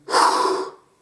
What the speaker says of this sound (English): So take a deep breath and then